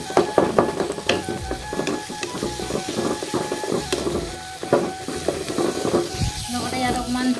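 Egg frying in a pan, with busy sizzling and repeated scraping and stirring strokes close by, fairly loud and continuous throughout.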